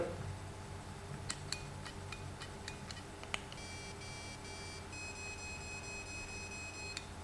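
A series of short, faint electronic beeps from a vape device, four or five evenly spaced, then a longer sustained tone, heard close over a low background hum.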